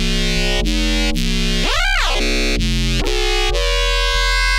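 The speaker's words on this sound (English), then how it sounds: "Especially adding something like distortion to the filter." Compressed synthesizer with distortion on its filter: a loud, buzzing multiband-processed tone with sharp repeated note changes and one sweeping filter swoop in the middle.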